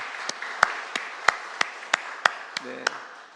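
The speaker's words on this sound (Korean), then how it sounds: "우리 축복의 박수 다시 한번 하겠습니다" A church congregation gives a round of blessing applause, heard as a series of sharp, evenly spaced claps at a brisk steady rhythm, fairly close and moderately loud, with a brief low murmur near the end.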